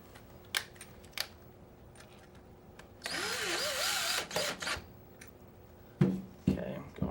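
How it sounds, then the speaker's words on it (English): Receiver screws on a US Army Carver One air rifle being tightened, a close burst of whirring power-driver noise with scattered taps and clicks of handling around it. "we'll tighten up our receiver screws here"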